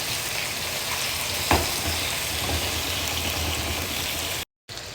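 Chicken pieces frying in a pan give off a steady close crackling sizzle, with one brief clatter as they are turned and a short dropout near the end.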